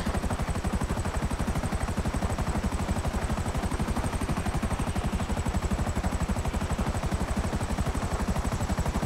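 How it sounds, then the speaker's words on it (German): A helicopter's rotor in the video game GTA 5 Online chops in a fast, steady rhythm, loud and unbroken throughout, with no voices. "Den will ich auch, den Heli, der ist cool."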